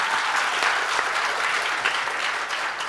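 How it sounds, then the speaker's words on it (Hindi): Loud, sustained clapping from a crowd of students after a song at a school education event in Bastar, Chhattisgarh, dense and unbroken for the whole span. "एक बार फिर से जोरदार तालियां"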